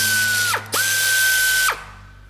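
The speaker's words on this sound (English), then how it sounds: "Rotate the two locking cylinders counterclockwise." Two locking cylinders on a film-production mechanism turned counterclockwise: a steady mechanical whir with a thin whine that cuts out briefly twice, with ratcheting clicks at each break.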